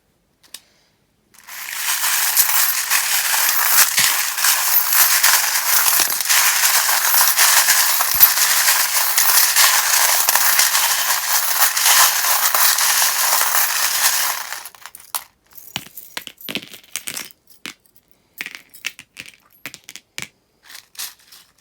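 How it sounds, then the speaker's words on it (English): A long stretch of loud, dense rattling and clattering as charms and dice are shaken together, then scattered clicks and taps as it settles. "if you don't like the sound of the charms being shuffled, just turn down the volume"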